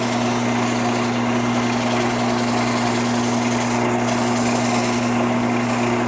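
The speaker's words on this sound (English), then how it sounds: "So I'm going to continue sanding this." Sanding a cedar bowl turning on a woodturning lathe gives a constant close motor hum with a steady tonal whine and an even hiss of abrasive on wood, unbroken and with no speech.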